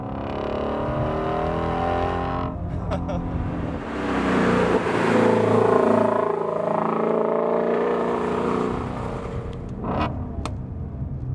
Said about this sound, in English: Nice pops from the exhaust there.